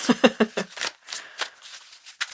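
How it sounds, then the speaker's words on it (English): Tarot cards are shuffled by hand up close in a quick series of crisp riffling bursts that thin into softer, scattered card rustles, with a faint voice mixed in. "Shuffle, shuffle, shuffle."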